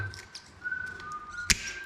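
A person whistles a thin, steady tone at a moderate distance, broken by a sharp tap partway through, during workshop preparation with cables.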